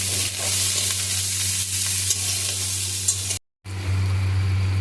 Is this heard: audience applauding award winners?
no